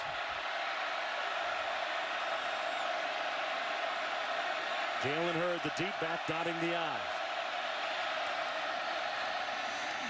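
Steady stadium crowd roar fills the air throughout at a 2018 college football game between Oklahoma and Baylor, with a commentator talking over it and a brief brassy band or whistle flourish midway.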